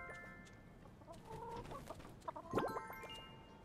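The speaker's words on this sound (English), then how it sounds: "Look at all of you being real proper hens." Hens in the farming game My Time at Sandrock cluck repeatedly in a loose, overlapping chatter, with a brief louder squawk partway through, all fairly close and with no talking.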